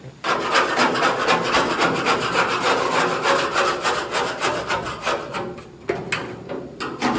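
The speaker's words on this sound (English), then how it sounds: "I'll go in here and I'll go in, scrape off all the undercoat on the back" Undercoat is scraped off the back sheet metal of a 1964 car, making close, loud, rhythmic rasping strokes in a steady back-and-forth pattern, briefly broken near the end by a sharper knock.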